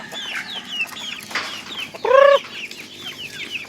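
Native chickens cluck at feeding time in a backyard, with soft, scattered clucks and chirps and one louder, sharper call standing out near the middle.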